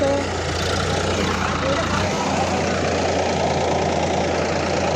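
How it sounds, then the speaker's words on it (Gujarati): A tractor engine chugging steadily as it is driven through a wet paddy field, a continuous close rumble whose low throb drops away partway through, with people talking over it. "અમારા આકનભાઈ ટ્રેક્ટર હાંકી રહ્યા છે"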